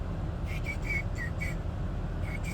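A person whistles a series of short, high chirping notes in imitation of a bird call, several quick tweets in irregular bursts over a steady low background hum.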